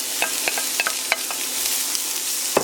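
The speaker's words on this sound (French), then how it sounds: "On dépose donc les oignons avec le poivron," Chopped onions and half a bell pepper fry in olive oil, a loud, bright, continuous sizzle with a series of quick spatula taps and scrapes as they are stirred.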